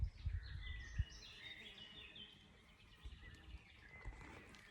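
Small birds chirp and sing in a calm sunny forest, thin and fairly distant, over faint low rumbling and occasional soft thumps near the microphone.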